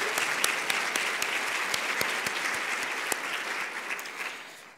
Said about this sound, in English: So please give a big round of applause to Jaclyn, who really has done a lot of the